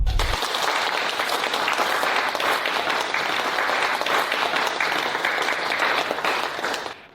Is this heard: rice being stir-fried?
no